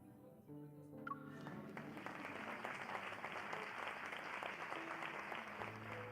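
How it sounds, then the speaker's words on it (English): Applause fills a hall in the game Love and Deepspace, a steady wash of clapping heard faintly, with brief tonal notes at the start and a low tone near the end. "Applause fills the hall"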